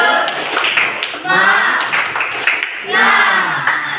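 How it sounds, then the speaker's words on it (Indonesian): Rhythmic group clapping with cheering from students in a classroom religious lesson, coming in loud bursts that overlap with lively voices throughout. "silakan tepuk semangat"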